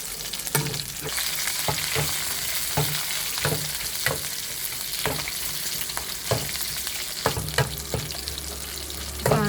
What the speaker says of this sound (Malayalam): ഇതിട്ട് നമുക്കൊന്ന് കടുവാം